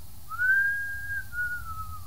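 A person whistles one clear, sustained tone that rises slightly and then holds, near and alone over a quiet room, for about two seconds.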